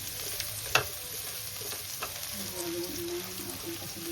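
Onions frying in a pan where chicken was cooked, a steady close sizzle with a spatula scrape and a few stirring clicks.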